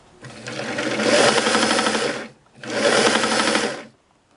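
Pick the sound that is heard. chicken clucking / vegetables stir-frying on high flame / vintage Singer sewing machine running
vintage Singer sewing machine running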